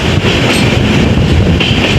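A train rumbles along loudly and steadily over the Farakka Barrage bridge, its wheels and carriages roaring close by without letup.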